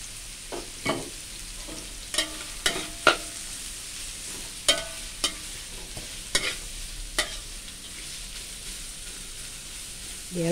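Green papaya stir-fried with garlic in a pan: a steady soft sizzle with scattered scraping and clicking strokes of a utensil stirring against the pan.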